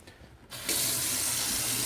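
Tap water running into a sink while a paintbrush is rinsed out, starting quietly then surging to a loud, steady gush that continues without talk.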